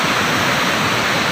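Water rushes steadily from an irrigation outlet at Rizal dam in Nueva Ecija, a loud, dense, continuous roar with no pauses.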